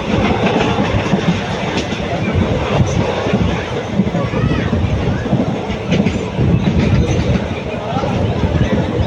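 A passenger train pulls into Sankarankovil station on the Madurai–Tenkasi line, with steady loud rumble and clattering wheels throughout, and crowd murmur and voices mixed underneath.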